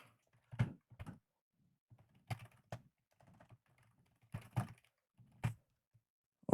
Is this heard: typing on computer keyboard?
yes